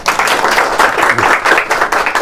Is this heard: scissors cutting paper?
no